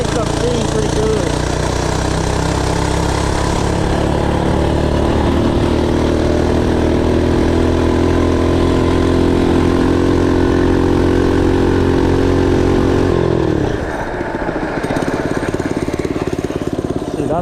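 A small engine on an FRP GMB-100 minibike, fitted with a turbo, runs steadily and loudly up close. Its pitch rises slowly as it revs, then drops off sharply near the end.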